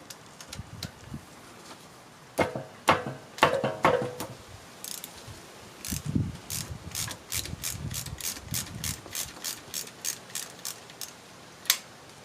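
A 3/8 ratchet loosening the center pin bolt on a Ford rear axle. A few sharp clicks come first, then a long, evenly spaced run of close ratchet clicks, with no talking.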